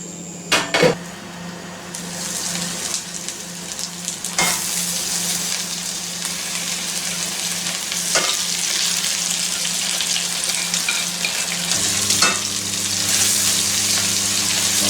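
Lamb steaks fry in a new pan with a steady, close sizzle that runs throughout, broken by a few sharp utensil clatters and knocks.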